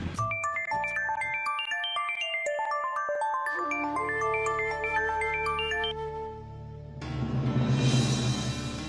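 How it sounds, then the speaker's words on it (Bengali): A mobile phone rings with a bright melodic ringtone of repeated tinkling notes, fairly loud and close, which then gives way to a brief burst of background music. "কার ফোন শেষদা ভাই?"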